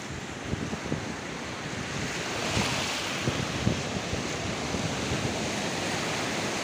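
Sea waves wash continuously onto the shore at Lazurnoe, a steady broad surf roar with gentle swells and some wind buffeting the microphone, without any voices.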